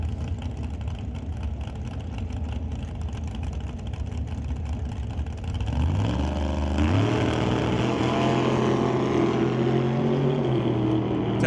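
Race cars on a drag strip in the ET series, engines idling with a low rumble before a sudden loud roar as they launch, revs climbing in stepped tones and holding strong to the end.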